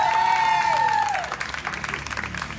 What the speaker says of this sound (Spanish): Un aplauso para Johan, fuerte el aplauso.